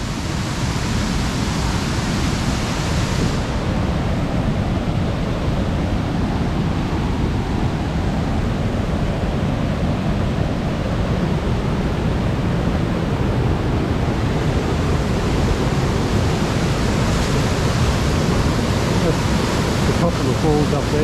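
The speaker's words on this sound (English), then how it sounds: "show you the main falls" The main falls at Finch Hatton Gorge pour in a loud, unbroken roar of rushing water, steady and close throughout with no pauses.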